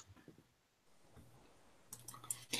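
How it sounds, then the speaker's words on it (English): Typing on a computer keyboard picked up on a podcast mic, with faint sparse clicks at first, then a burst of sharp, rapid key clicks near the end. "Can you hear me typing?"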